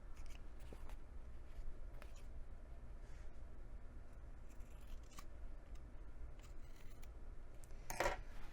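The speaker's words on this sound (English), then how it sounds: "if you happen to have any overhang anywhere else, trim that now as well" Scissors trimming overhanging cork fabric on a bi-fold wallet, faint snips and rustles over a noisy background, with one sharper louder cut near the end.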